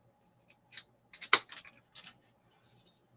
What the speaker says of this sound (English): they cut popsicle sticks wonderfully